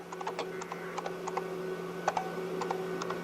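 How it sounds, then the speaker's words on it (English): A computer keyboard is typed on in the dark, with light irregular key clicks coming at close range over a steady electrical hum and no talking. "It's hard typing in the dark."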